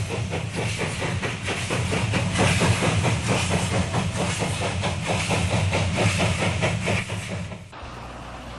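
A steam locomotive chuffs past in steady rhythmic beats with hissing steam and rumbling wheels, loud and close, then cuts off abruptly near the end.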